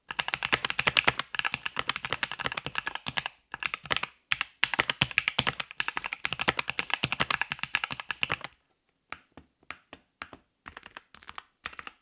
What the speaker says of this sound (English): every keystroke has that satisfying deep sound to it rather than the hollow sound that you get on cheaper boards